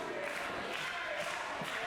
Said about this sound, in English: can hear the crowd getting behind Hayter